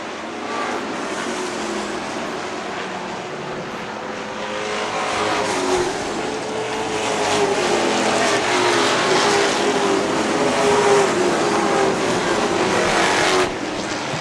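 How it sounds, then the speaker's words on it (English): Late model stock cars racing around an oval track, their engines roaring in a steady, building drone as the pack passes, loud and continuous without talk. "Same time Thorne outside of Dinsmore racing for third"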